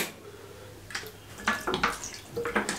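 Water poured into a bowl of chicken marinating with salt, vinegar and lemon juice, heard as a few short splashing, gurgling pours after a quiet start, close and alone.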